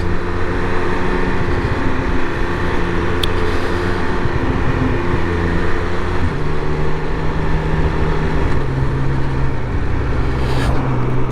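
A 2021 Triumph Speed Triple 1200 RS motorcycle at speed in sixth gear gives a steady, loud engine drone mixed with heavy wind rush, constant throughout with no talking.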